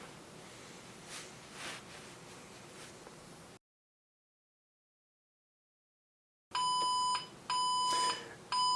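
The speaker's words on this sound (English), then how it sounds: "Now that continuous beeping is not good." A Heathkit H-8 computer sounds a continuous beeping alarm after a checksum error while loading a tape. Rustling and a gap of silence come first, then loud, steady repeated electronic tones.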